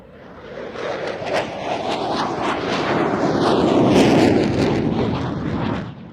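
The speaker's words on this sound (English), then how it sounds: "The F-16 is doing a nice job of keeping this tight in front of the large audience at the airshow" An F-16 Fighting Falcon jet flies a display at an airshow, its broad engine roar swelling to a peak and fading, mixed with wind noise on the microphone.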